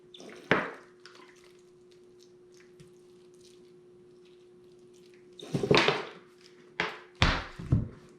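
Water poured onto a potted ficus bonsai planted over mineral rock comes in a few short, wet splashing bursts, separated by quiet stretches with a faint steady hum.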